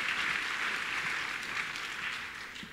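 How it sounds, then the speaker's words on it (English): Fairly quiet clapping from an audience at a religious gathering, a steady wash of many hands that fades slightly toward the end. "Let's clap for Jesus."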